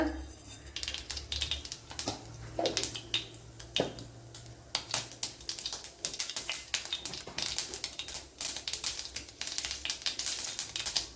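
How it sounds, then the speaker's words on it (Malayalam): Mustard seeds crackle and pop in a tablespoon of hot coconut oil, a dense, continuous spatter of close, quick snaps with a faint sizzle underneath. "ഇവിടെ വൺ ടേബിൾ സ്പൂൺ വെളിച്ചെണ്ണ ഒഴിച്ചു കൊടുത്തിട്ടുണ്ട് അതിലേക്ക് കടുക് ഇട്ട് കൊടുക്കുക"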